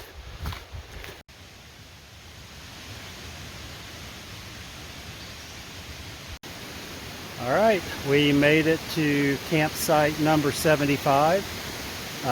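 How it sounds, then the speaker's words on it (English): Steady broadband rushing of a flowing creek beside a campsite in the Great Smoky Mountains runs throughout, with a person speaking over it in the latter part. "Maybe you can hear the creek in the background."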